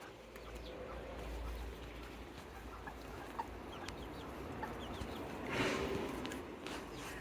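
Chickens cluck softly from garden chicken coops in an organic English garden, scattered faint clucks and calls over quiet outdoor ambience, with a slightly louder burst near the end.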